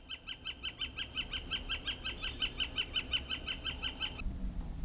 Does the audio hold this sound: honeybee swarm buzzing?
no